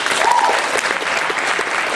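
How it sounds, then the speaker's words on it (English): Comedy club crowd applauding a volunteer coming onstage, loud dense clapping with some cheering voices mixed in, sustained and close for the whole stretch. "Come up, give a round of applause."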